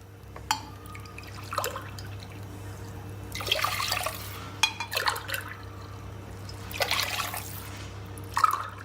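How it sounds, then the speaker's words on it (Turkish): Cold water is poured from a glass into flour for börek dough in short splashing pours, several seconds apart, over a faint steady background hum. "Bir su bardağı soğuk suyu verdikten sonra isterseniz sıcak su da verebilirsiniz"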